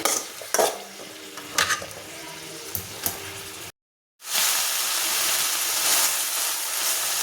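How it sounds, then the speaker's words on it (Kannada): Brinjal frying in oil in a pan is stirred with a spoon, giving scraping clinks over a steady sizzle that turns into a louder, dense hiss after a brief gap. "ಬದನೆಕಾಯಿ ಎಣ್ಣೆನಲ್ಲೇ ಫ್ರೈ ಆಗ್ತಿದ್ದಂಗೆ ಅಲ್ಲಿ ತನಕ ಫ್ರೈ ಮಾಡ್ಕೊಬೇಕು"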